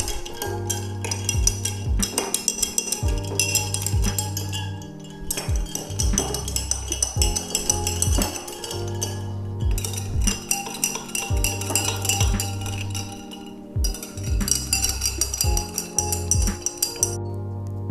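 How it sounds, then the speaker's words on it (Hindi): A spoon stirs mint shikanji in drinking glasses, making quick repeated metallic clinks and taps in bursts, close and fairly bright, with background music running underneath. "पानी डाल के हम चम्मच से मिला देंगे।"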